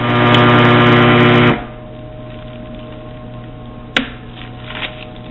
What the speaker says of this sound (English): I'm just going to use the heat seal on it.